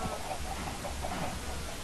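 Chickens clucking on a farm in a Minecraft-style video game, a steady murmur of soft clucks continuing throughout at moderate volume with no speech.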